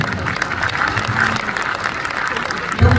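A poetry recital audience at a kavi sammelan breaks into applause, a loud, dense wash of clapping that holds steady and swells slightly at the end.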